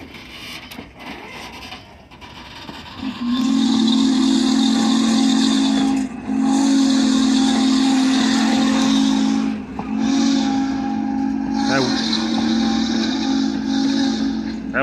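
A loud, sustained steam locomotive whistle blows in long blasts with brief breaks between them, over a hissing rumble of steam, at the Strasburg Rail Road.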